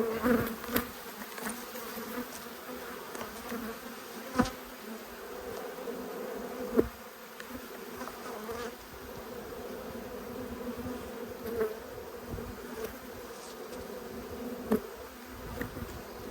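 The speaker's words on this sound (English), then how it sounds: "there's a lot of bees there." Honey bees swarming over an open hive during a late winter inspection, a dense continuous buzz close by with occasional louder individual bees passing near, steady throughout and no talking.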